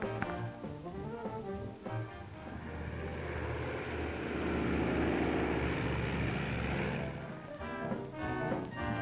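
A propeller airplane from around 1941 passes overhead, its engine drone swelling to a loud, sustained roar mid-stretch and then fading, with music-like tones before and after.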